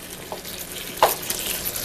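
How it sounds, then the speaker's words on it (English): Peppercorn-crusted rib eye steaks sizzle steadily in a hot pan, a constant frying hiss with a brief louder crackle as meat settles, close and without talk. "now we're going to brown our steaks really nice on both sides"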